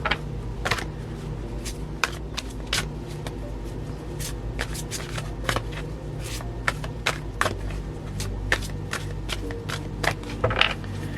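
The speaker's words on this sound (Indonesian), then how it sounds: "Aku susun dulu kartunya ya" Tarot cards being laid out and arranged by hand, giving a steady series of crisp snaps, slides and taps close up over a faint background hum, with no talking.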